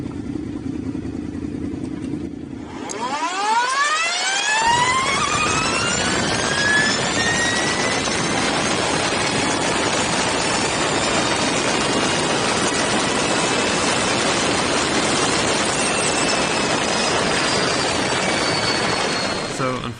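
Energica Ego electric motorcycle making a quarter-mile drag run: a rising electric whine climbs steeply in pitch after launch and settles into a sustained high-pitched motor whir with rushing wind noise, loud and close for the rest of the run.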